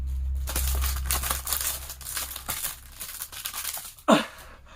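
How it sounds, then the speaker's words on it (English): Christmas presents being wrapped in paper, with close crinkling and rustling of wrapping paper, scattered tearing and handling noises, and a brief sharper burst near the end. "I'm going to wrap all my Christmas presents right now."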